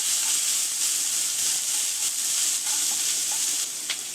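Thinly sliced onion sautéing in hot oil for Tamil-style coconut rice, giving a steady close sizzle with light stirring scrapes and no voices.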